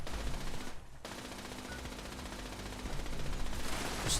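Rapid turret gunfire in the Fallout 76 game, heard as a dense, continuous rattle of shots at moderate loudness. It breaks off briefly near 1 second, then runs on and grows slightly louder toward the end.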